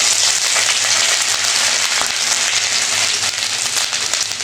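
Ginger sizzling in hot oil with a bay leaf and a dried red chilli, the start of a pot of khichuri; a steady, close crackling fry with no pauses and no voices.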